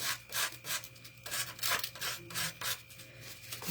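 Hand sanding a piece with a folded sheet of sandpaper during a craft makeover, rhythmic close-up rasping strokes, about eight back-and-forth passes with brief gaps, over a low steady hum.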